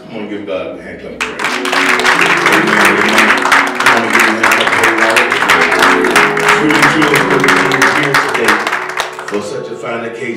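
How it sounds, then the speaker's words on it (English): A church congregation breaks into loud, dense hand clapping of praise, rapid and sustained for several seconds, with voices calling out and cheering over the clapping. "Come on, give God a hand clap."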